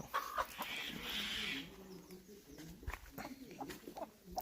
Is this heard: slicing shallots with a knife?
no